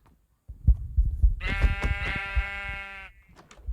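A single drawn-out sheep bleat, close and clear, wavering for about a second and a half amid soft rustling and shuffling.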